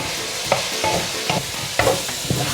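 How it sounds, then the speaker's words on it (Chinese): Seasonings stirred in a wok (peanut butter, soy sauce, white pepper, sugar, salt, black peppercorns) for braised radish, a steady sizzle with irregular scraping spatula strokes, close and fairly loud, no voices. "把调味料炒匀"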